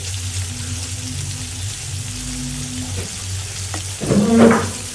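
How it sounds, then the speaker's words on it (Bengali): Shrimp frying in a home kitchen pan, a continuous crackling sizzle with a low steady hum beneath and a brief burst of louder clattering near the end, no voices. "চিংড়ি মাছটা আমি ভাই বসাই দিচ্ছি এটা চিংড়ি মাছটা ভাজা হলে আমি ঝোল ঝোল দিয়ে রান্না করবো"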